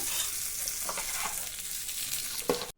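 Steady, close hissing sizzle as a hot-oil tempering is added to a cumin tambuli, with a few brief clinks and scrapes toward the end.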